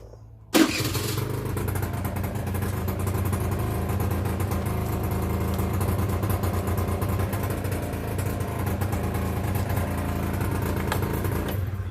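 A Peugeot Vivacity 50 scooter, pre-2008 model, starts at once and then runs at a steady, loud idle right up close, its engine drone holding even for the rest of the stretch with no talking.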